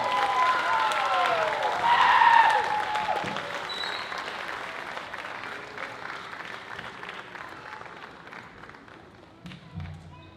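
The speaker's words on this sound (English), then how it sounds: "How about another round of applause," Loud crowd applause with clapping that swells early, then continues steadily and fades slightly, with cheering voices mixed in.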